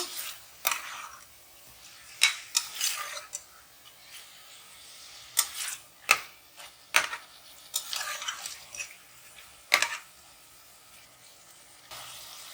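Chicken with turmeric powder stirred in a pan, a spoon scraping and clinking against the metal in irregular bursts over a faint sizzle, close and fairly quiet.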